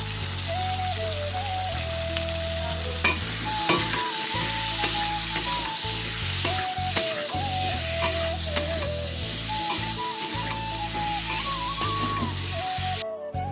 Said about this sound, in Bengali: একটু ভালো করে নেড়ে দিচ্ছি